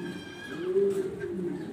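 Black Danish exhibition pigeons coo softly in a low, rolling murmur, with a fuller swell near the middle of the short stretch and a faint higher bird call above.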